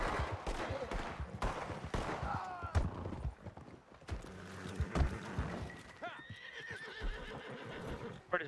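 A horse in a video game whinnies and snorts amid busy game noise, with hoofbeats, a sharp crack and overlapping voices throughout; the neighs rise and fall in short wavering calls, fairly close and loud.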